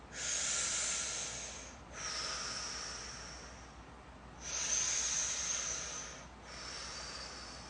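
Slow, deep breaths during a rib cage and psoas release exercise: four long airy inhales and exhales, close and breathy, alternating in an even rhythm with no talking.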